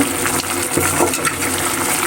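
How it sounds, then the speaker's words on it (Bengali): Fried small shrimp go into a Malabar spinach curry in a pan and are stirred in, producing a dense, even sizzle with faint scraping under it. "এই যে ভাজা চিংড়ি মাছটা দিয়ে নিব"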